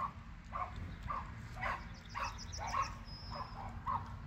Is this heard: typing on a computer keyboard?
no